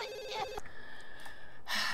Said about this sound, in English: Why is the phone always ringing?